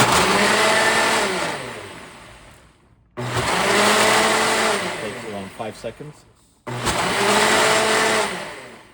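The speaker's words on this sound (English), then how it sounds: "This is actually normally a smoothie blender, but that thing is so powerful." A powerful smoothie blender roars loudly in three long bursts, cutting off in short pauses between them, while preparing German asparagus salad with olive oil and water.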